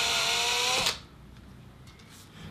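A power drill bores a hole through a three-layer Fender Stratocaster pickguard, a loud high whine that cuts off abruptly under a second in, leaving only quiet room tone.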